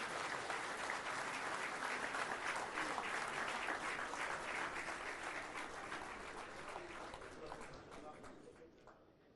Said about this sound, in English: let's bid them adieu with a huge round of applause